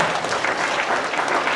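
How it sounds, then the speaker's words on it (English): Children at an elementary school assembly applaud together, a lively, even patter of many hands that holds steady throughout without any voices on top. "give these guys a round of applause."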